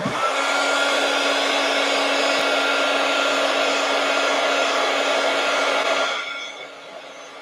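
A hair dryer blows steadily on a journal page for several seconds, a loud even whooshing hum close to the listener, then switches off and winds down near the end.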